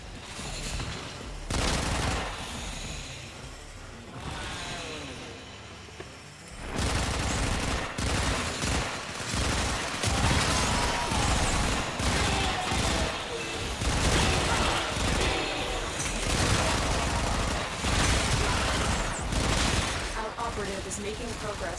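Rapid gunfire in the video game Warframe, bursts of dense automatic shots after a brief quieter stretch, then sustained loud volleys with booming impacts running close and continuous.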